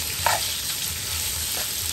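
Beef and rice stir-frying together in a hot pan, a steady broadband sizzle with faint scraping stirs, continuous and close with no talking.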